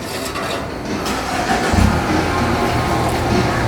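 A car fitted with a Corsa exhaust starts up and settles into a steady, rumbling idle, heard close and fairly loud with no talking.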